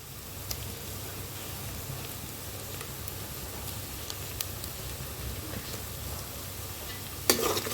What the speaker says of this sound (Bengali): তেলটা গরম হয়ে গেছে এখন এর মধ্যে দিয়ে দিব পেঁয়াজ কুচি